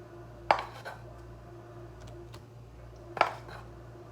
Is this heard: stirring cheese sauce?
yes